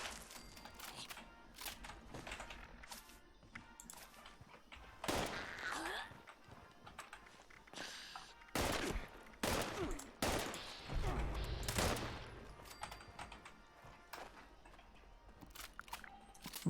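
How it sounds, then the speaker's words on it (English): Black powder pistol shots in a video game, many sharp cracks fired in quick irregular bursts, fairly faint, mixed with other game effects. "Black powder pistol and faster fire rate"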